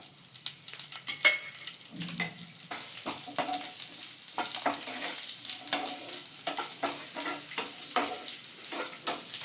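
Chopped large onion frying in hot oil for soya Manchurian, a close, continuous crackling sizzle broken by repeated sharp spatters and spoon scrapes, with no voices.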